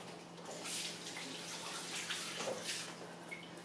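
Tap water runs steadily in a kitchen while hands are washed beneath it, a continuous close splashing hiss with small shifts as the hands move through the stream; no one speaks.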